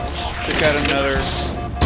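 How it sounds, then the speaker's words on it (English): Gunfire in a Halo 4 Spartan Ops firefight, a dense continuous barrage of loud shots filling the whole short moment amid game noise. "Oh, I got shot from behind."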